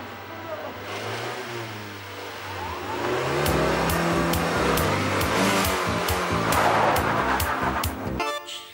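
A 1300cc car engine revs and roars, building from a lower drone into a loud, sustained high-revving rush with rapid ticking bursts, then cuts off abruptly.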